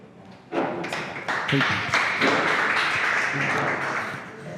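An audience claps after a speech at a meet and greet, a burst of applause that starts with a few scattered claps, swells quickly into a steady full roar of many hands, and holds before easing slightly.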